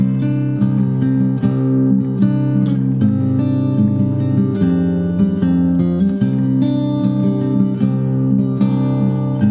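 Fingerstyle acoustic guitar plays a filler passage from a theme, a steady flow of plucked notes over sustained low bass lines, close and even in loudness with no talking.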